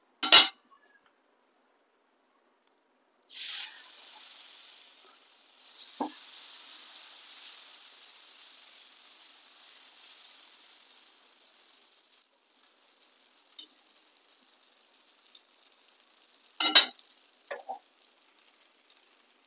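A raw-potato paratha dropped onto a hot pan gives a sudden loud sizzle that fades slowly over several seconds. Short metallic clinks of a utensil come before and after it, in an otherwise quiet kitchen.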